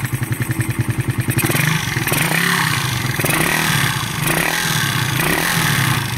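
Motorcycle engine with suspected low compression is revved close up, starting with a rapid rhythmic idle putter, then rising into loud sustained revving that swells and dips several times.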